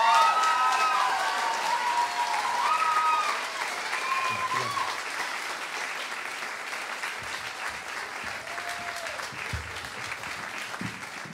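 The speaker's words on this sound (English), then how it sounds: "So give them a round of applause, huh?" Applause for young singers ripples through a concert crowd at a holiday jam, strong at first and then thinning a little, while a voice cuts in and out over the clapping.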